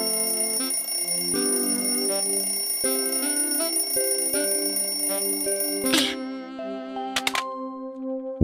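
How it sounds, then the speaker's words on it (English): A cartoon alarm clock rings loudly and steadily in a bedroom, a bright repeating bell tone over light music, ending in a burst of clanging and a few sharp knocks. "Oh, the alarm clock."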